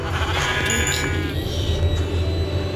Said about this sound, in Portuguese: Ovelha, mano. Ovelha, ovelha.